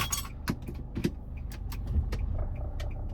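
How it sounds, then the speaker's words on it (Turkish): Nissan Qashqai 2.0 dCi key being handled, giving a few close metallic jangles and clicks, with a low car-cabin hum underneath. "Sürüşe başlamadan önce anahtarını göstermek istiyorum."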